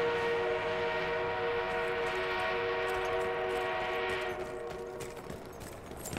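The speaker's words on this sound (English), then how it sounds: "Enemy armored train is en route." Battlefield 1 armored train rumbles steadily with a sustained horn-like whistle tone in a video game, loud and continuous before easing slightly, with clanking toward the end.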